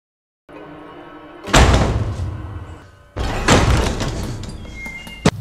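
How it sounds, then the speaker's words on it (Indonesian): A panicked attempt to force open a bathroom door, its handle coming loose: loud thuds and rattling bursts in two heavy waves, with a sharp knock near the end, close and alone. "seseorang berusaha membuka pintu kamar mandi dengan panik dan gagangnya terlepas"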